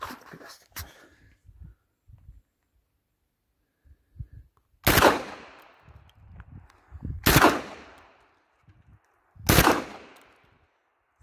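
Three loud, sharp rifle shots from a Dağlıoğlu FD 20 Kalashnikov copy fire at a slow, spaced pace on an outdoor range, each with a booming tail, between quieter handling noises.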